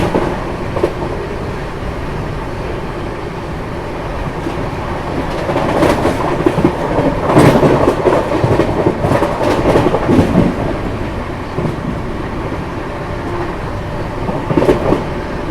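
The Mumbai Indore Duronto Express runs steadily at 130 km/h, with a loud, continuous rumble and rhythmic clattering of wheels on rail that swells midway and stays close.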